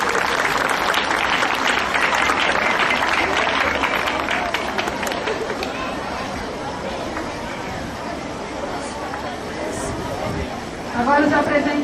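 A church congregation at a parish Bible walk breaks into sustained applause mixed with crowd chatter, steady and full for most of the stretch before easing slightly toward the end.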